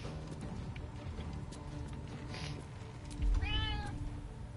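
A cat meows once, fairly close and clear, over a quiet room with low background noise, a single rising-falling call near the end.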